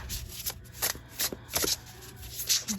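Tarot cards being shuffled by hand, a run of soft riffling bursts and flicks repeating in quick uneven rhythm, close and fairly quiet with no talking.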